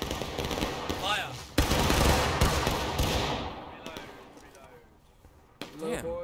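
A company of players fires a musket volley in the Civil War game War of Rights, loud crackling rifle fire bursting out and rolling away, with shouted voices of players heard around the shots.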